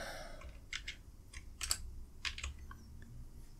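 Keys are tapped on a device to enter an address in a navigation app, a few quiet clicks in short bursts with gaps between, close and faint.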